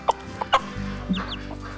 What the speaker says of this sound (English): she'll cluck to the baby.